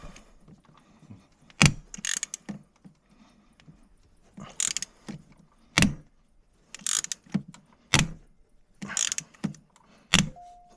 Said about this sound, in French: c'est le cliquet qui fait ce bruit